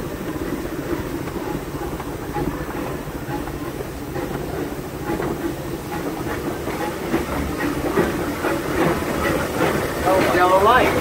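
A Disneyland steam train rolls along its rails, a continuous low rumble with rhythmic clickety-clack from the wheels and some hissing, heard from aboard the locomotive with voices talking over the ride noise.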